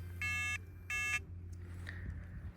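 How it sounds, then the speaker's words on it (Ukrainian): A Vallon VMC 4 mine detector sounds its on-target signal: two steady, buzzy electronic tones of about a third of a second each with a short gap between them, loud and close over a low background hum. "Переходимо до цілі, вона гудить."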